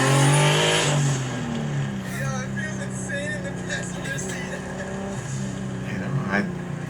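A 500whp turbocharged M50-engined BMW E30 pulls hard, its engine note rising in pitch as it climbs through the revs. The sound is loud and close at first, then steadies, with a voice speaking over it.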